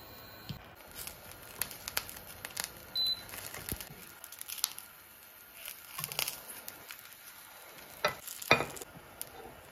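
Homemade tocino cooking in a pan, a faint steady sizzle broken by scattered clicks and scraping stirs, quiet and close with no talking.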